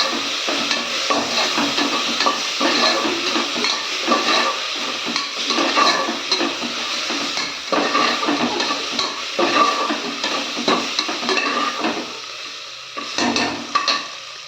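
Green chillies sizzle and crackle in a frying pan for ghee rice, stirred steadily with a spoon that scrapes and clinks against the pan under a continuous loud hiss.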